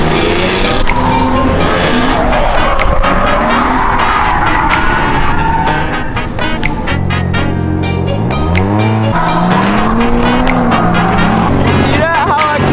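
A car driven hard while its driver tries to drift it, the engine loud and continuous with a rising and falling pitch, mixed with tire noise and heavy background sound throughout, no clear talk over it.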